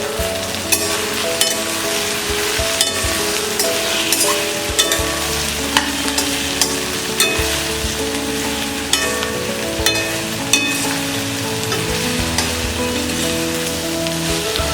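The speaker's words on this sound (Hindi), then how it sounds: "और इसे हम बिना कवर किए लो फ्लेम में फ्राई करेंगे।" Okra frying on low flame in an uncovered pan with turmeric and red chili powder, a loud continuous sizzle broken by regular sharp clacks and scrapes of stirring, close up and with no voices.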